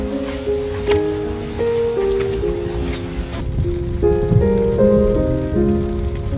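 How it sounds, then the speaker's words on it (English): Rain falling outdoors during a shopping trip, a steady dense patter across the whole clip, with sustained musical tones playing over it and no talk. "but it's still raining"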